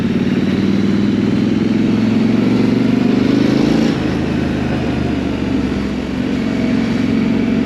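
A Triumph Scrambler 900 motorcycle is ridden with a steady, loud engine drone that holds throughout, shifting slightly in pitch partway through as the ride continues.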